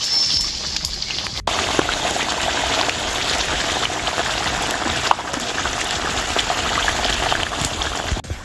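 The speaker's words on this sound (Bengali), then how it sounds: "মাছটা দিয়ে 2 থেকে 3 মিনিট খুব ভালো করে ফুটিয়ে নেবো।" Katla fish kalia, a Bengali fish curry, boils in a pan with a steady, dense bubbling and hiss that runs without a break, close and fairly loud, with one sharp tap near the start and no voices.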